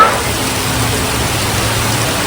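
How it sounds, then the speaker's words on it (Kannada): Steady hiss of rain falling in Mussoorie, India, even and continuous, with a faint low hum underneath and no voices. "ಮಳೆ ಬರ್ತಾ ಇದೆ"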